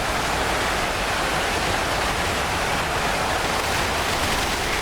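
Flooding water in the video game 3 Million Zombies, a steady, loud broadband rush like a waterfall or heavy surf that holds constant with no pauses and no voices.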